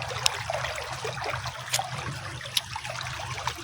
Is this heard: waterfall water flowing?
yes